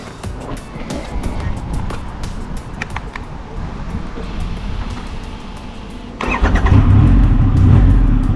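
A 2023 Triumph Rocket 3R motorcycle runs with a steady engine rumble, then its revs rise sharply near the end with a louder, fuller roar close to the rider.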